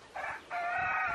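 Chickens at a free-range farm yard, likely Araucana and white silkie-type fowl, give a short cluck followed by a loud, sustained crow close by, with no talk.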